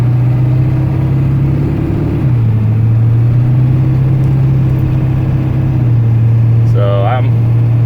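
A 1996 Ford F250 4x4 diesel truck engine runs steadily with a loud, low drone, its pitch dropping slightly partway through. A brief higher whine or squeal comes in near the end.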